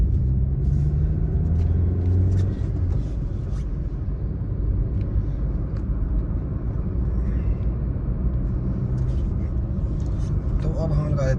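A 2023 Maruti Suzuki Swift cruises along a highway, a steady low engine and road rumble filling the cabin with tyre and wind noise, while someone talks over it.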